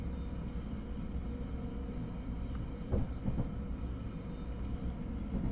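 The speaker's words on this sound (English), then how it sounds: "Overground train going to somewhere on the overground." A London Overground train in Train Sim 2022 passing as a steady, low rumble with faint clanks, continuous and moderately distant throughout, with no voices.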